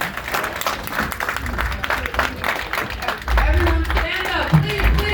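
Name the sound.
audience giving a round of applause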